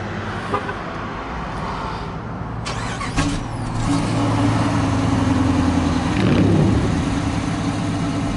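A 2015 Dodge Charger R/T with a 5.7 liter Hemi V8 turns over by remote start and settles into a steady, deep idle, with a low engine rumble building and holding at moderate level amid faint outdoor background noise.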